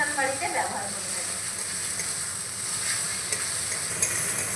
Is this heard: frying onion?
yes